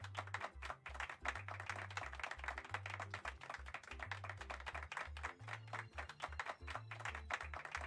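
Crowd applause from the Pokemon Shield video game, a steady dense patter of clapping over a repeating low game-music bass line, with no talk.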